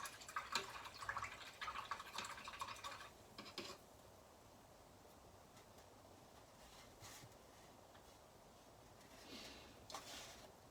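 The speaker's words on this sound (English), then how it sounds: "And then I'm going to rinse my brush." A paintbrush is swished and rinsed in a water cup while painting, giving close, quiet splashing and dripping in the first few seconds, then soft faint trickles over low room noise.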